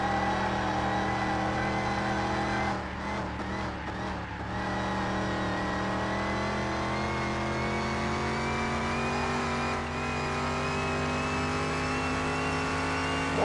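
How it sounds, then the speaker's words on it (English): A misfiring, badly untuned car engine in Car Mechanic Simulator 21 revs and holds a loud, steady drone with rising harmonics, with a brief rough stutter early on and no talking. "It is misfiring so bad."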